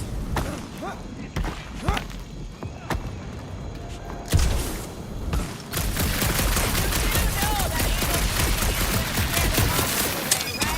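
Video-game gunfire in a dark Guardians of the Galaxy level: scattered sharp shots and thuds at first, then a sustained, denser volley of rapid fire, with people talking throughout.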